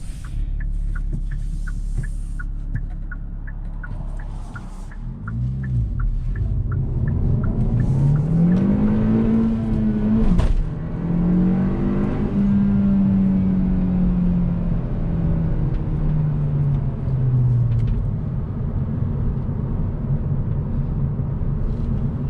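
A 2021 Hyundai Elantra N Line with a six-speed manual, its engine droning inside the cabin and rising in pitch as it accelerates through the gears, with a brief thump midway and no talking.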